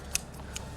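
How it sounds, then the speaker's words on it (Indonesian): Two quick snips of scissors cutting hair, faint and crisp over a low steady room hum, spaced about half a second apart. "Untuk saya gunting rambutnya untuk sebagai simbol."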